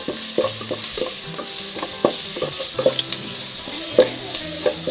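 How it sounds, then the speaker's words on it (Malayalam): Onion, garlic and crushed kanthari chili sautéing in a pan for a prawn rice dish, a steady close sizzle of frying with repeated scraping and stirring strokes throughout. "കാന്താരി ചതച്ചത് ചേർത്തെടുക്കാം നന്നായി ഒന്ന് വഴറ്റിയെടുക്കാം"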